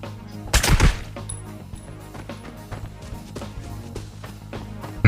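Bursts of gunfire in the video game Arena Breakout crackle over a steady electronic backdrop, with a loud volley early on and scattered shots afterward.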